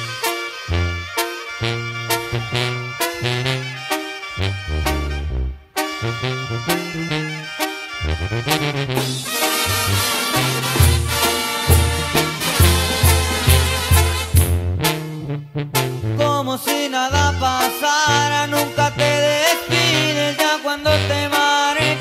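A banda plays a romantic song live, with brass and percussion in a full, loud, rhythmic arrangement and sustained melodic lines, with brief pauses between phrases.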